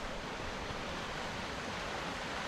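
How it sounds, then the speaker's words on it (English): Steady, even rush of running water like a stream, a constant broadband wash with no distinct events, moderately loud and close. "You just hear running water, like a stream."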